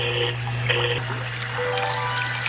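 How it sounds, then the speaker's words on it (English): A small waterfall-simulating machine splashes and trickles steadily nearby, a continuous watery rush with a low hum underneath and a few brief bright drips. "I bought this special machine off Amazon, which apparently is supposed to simulate a realistic waterfall"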